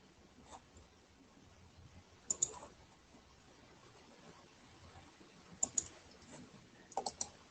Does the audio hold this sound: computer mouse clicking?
yes